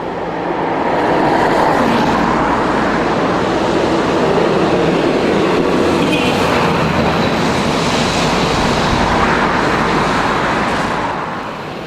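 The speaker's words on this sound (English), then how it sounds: "A completely empty bus overtaking a hardly full LT on the regular route." London Routemaster bus RM1627 on a regular route overtakes another bus on a city street, a continuous broadband engine and road roar that swells and stays loud before easing off, with general traffic noise around it.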